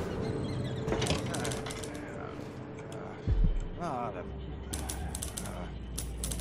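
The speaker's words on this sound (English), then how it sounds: "Somebody's typing in there." Typing sound in the Dishonored 2 video game: rapid clattery keystrokes in bursts, fairly faint under someone talking, with a low thump partway through.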